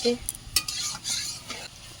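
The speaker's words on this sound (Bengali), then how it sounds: "এই নালগুলো এবার ভাজা ভাজা করে নেবে" Stalks of pond weed being stirred and fried in a pan, with a soft steady sizzle under several scraping stirs of a utensil against the pan, close by.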